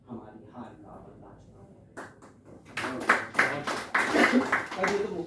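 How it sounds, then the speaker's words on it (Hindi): An audience claps at a Hindi poetry recital, the applause swelling into a dense, fairly loud burst after a spoken line of verse. "तालियां हैं"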